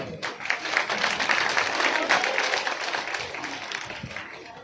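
Audience applause at a religious satsang gathering with a preacher, a dense steady wash of many hands clapping throughout, fairly close and sustained, tapering slightly near the end.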